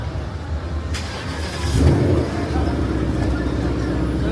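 A Ford Mustang car engine idling and revving nearby on a street in Angeles City, a steady low rumble that swells briefly midway, with people talking around it.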